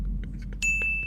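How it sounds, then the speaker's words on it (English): A phone rings with a thin, electronic ringtone: a few short bright dings, then a sustained high tone held steadily to the end over low background rumble. "Weak ass ringtone."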